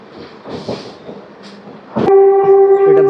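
Pinakini Superfast Express pulling out of Tenali Junction, a loud sustained horn blast starting abruptly partway through and holding steady over rumbling station and train noise.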